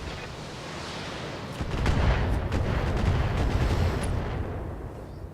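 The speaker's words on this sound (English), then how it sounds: "Pity the Gauss rifle missed." Weapons fire from the BattleTech mech combat game, including a Gauss rifle, plays as a low rolling barrage of booming shots and rumbling impacts that builds midway and stays heavy, muffled and fairly distant.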